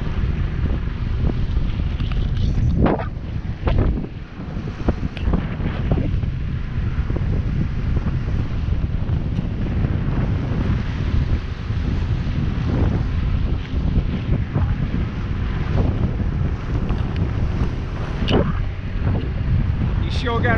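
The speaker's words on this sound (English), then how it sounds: "But man, the wind feels really good here." Strong wind on a boat ride along the Jamaican coast near Falmouth buffets the microphone in a constant low roar, with water and engine noise beneath and a few louder gusts.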